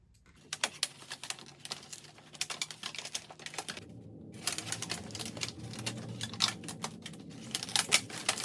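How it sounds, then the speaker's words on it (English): Rubber bands are wrapped around paper in a houseplant pot, giving a run of close, quick crinkling snaps and rustles that carries on steadily with no voices. "I'm just gonna wrap them around the paper in the pot to keep everything in place."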